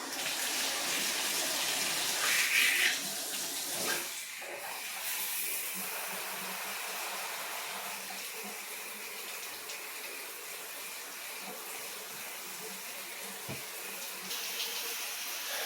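A newly installed showerhead runs cold water in a steady, close hiss of spray that continues for the whole stretch, with a brief louder splash early on and no talking.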